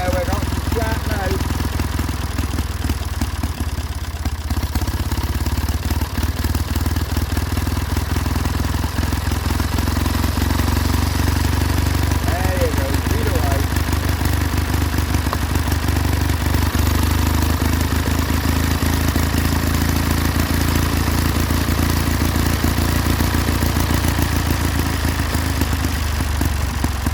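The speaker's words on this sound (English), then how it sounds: "there is our little Kohler twin" A small Kohler twin-cylinder engine runs steadily and loudly throughout, a continuous low mechanical drone with clattering texture and brief voice-like sounds near the start.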